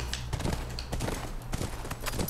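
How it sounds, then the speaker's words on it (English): Horse hooves clip-clopping in The Last of Us Remastered on PS4 Pro, a steady rhythmic trot of a ridden horse heard close, alone without talk. "That's our horse."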